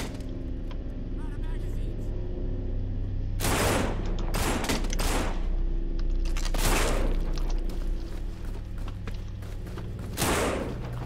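Bursts of gunfire while shooting zombies in the co-op zombie game No More Room In Hell, several sharp loud shots spaced irregularly over a steady low background rumble, with people talking in between.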